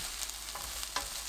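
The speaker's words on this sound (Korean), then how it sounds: "냄비에 식용유 1큰술, 양파 넣고 중불로 볶습니다" Onions frying in a tablespoon of cooking oil in a pot over medium heat give a steady soft sizzle with a couple of brief stirring scrapes, close and alone.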